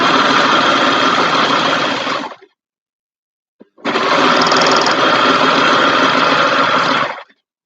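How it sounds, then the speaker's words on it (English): A serger trims and stitches cheap fleece in two loud, steady whirring bursts, the first about two seconds long and the second about three and a half, separated by a short silence with a faint click. "I'll let the knife, the serger deal with it"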